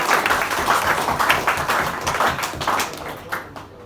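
An audience at a Hindi poetry recital claps steadily in a dense, even wash of applause that thins out toward the end, with no voices over it.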